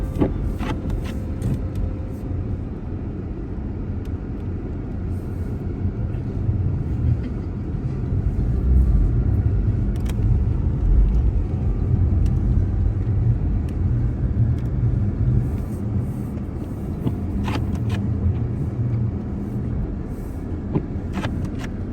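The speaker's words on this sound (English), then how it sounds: "drive home in the snow that accumulated from the snowstorm" A car drives home along snow-covered roads after a snowstorm in Alaska, its engine and tyres giving a steady low rumble that swells slightly midway and carries on without pause.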